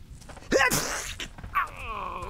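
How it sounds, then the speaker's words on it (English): One close, sharp sneeze with a quick inhale, recorded quietly, followed by a brief vocal sound and faint murmuring. "I'm gonna sneeze."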